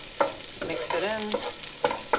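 Cauliflower and potatoes frying with fresh chopped turmeric get stirred in a pan, a soft sizzle running under a few distinct spatula scrapes and clacks.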